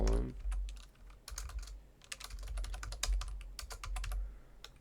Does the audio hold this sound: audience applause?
no